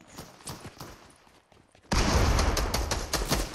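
Fortnite gunfire from another player erupts suddenly after a quieter stretch of light clicks and footsteps, turning into a loud, dense burst of rapid shots that continues to the end.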